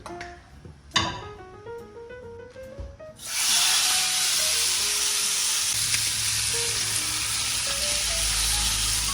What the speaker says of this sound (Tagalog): make sure when you are searing meat products, it should be really hot. A little bit of oil.